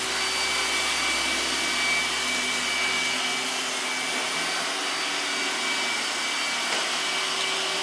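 An iRobot Roomba robot vacuum runs steadily, its loud broadband suction hum holding close and even as it picks up rice off the floor, with no voices over it.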